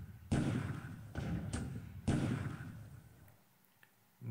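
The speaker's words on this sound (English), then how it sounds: "More bombardments" Naval bombardment explosions in the World War II strategy game War in the Pacific, four heavy booming thuds in quick succession, each with a rumbling tail, loud and close, followed by a brief quiet gap.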